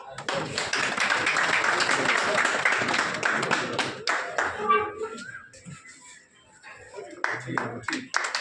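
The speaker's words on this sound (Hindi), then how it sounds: "भाई ताली बजाते रहो।" A village crowd claps to welcome a guest with flowers, brisk and fairly loud for several seconds before thinning to scattered claps with voices talking over it.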